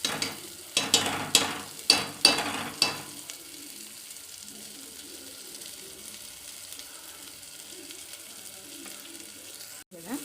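Rasam masala frying in a pan. About three seconds of close, rhythmic stirring and scraping sit over a sizzle, then the sound fades to a quiet low crackle.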